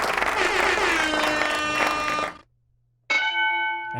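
A bright ringing tone with a long shimmering decay follows a burst of loud cheering and clapping, then a single clear ding sounds alone after a brief silence.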